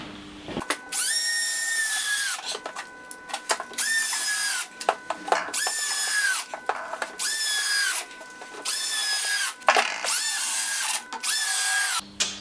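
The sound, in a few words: screwing chipboard panels with a power drill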